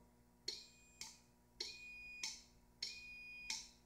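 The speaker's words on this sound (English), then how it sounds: "you can hear the relay output opening or closing." A liquid level sensor's relay clicking open and closed as the float moves, giving six sharp, faint clicks in pairs about half a second apart over a quiet background hum.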